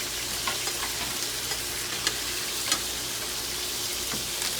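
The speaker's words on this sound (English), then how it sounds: "When you hear that, that's when all those oils are flash frying in the herbs." Steady sizzling of butter and herbs in a hot frying pan while basting beef tenderloin, with scattered small pops and crackles, close by and fairly quiet.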